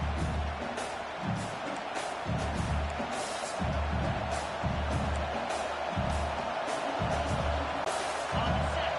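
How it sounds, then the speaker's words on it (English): A stadium crowd roars steadily in a College Football 25 game, a broad, sustained wash of cheering that stays in the background under recurring thuds and a commentator's voice. "The roar of the crowd trying to fuel this defense to keep them pinned in their own end."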